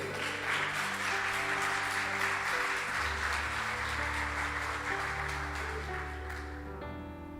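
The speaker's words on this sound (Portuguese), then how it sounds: "Dá uma salva de palmas a Ele." Church congregation clapping in praise during a sermon, a steady wash of applause over sustained organ or keyboard chords, moderately loud and continuous, fading slightly near the end.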